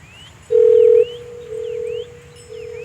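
A telephone dial tone sounds while a call is being placed: one long steady tone, then repeated shorter tone bursts, with light background music and effects chirping underneath.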